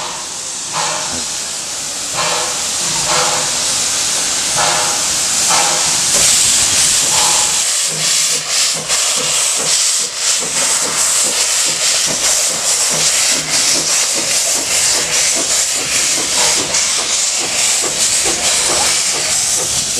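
Loud, continuous steam hissing from a nearby Puffing Billy steam train, with rhythmic chuffing bursts and clanking; no talking.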